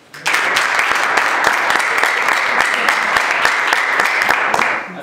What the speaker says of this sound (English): I want you to clap your hands if you are an engineering major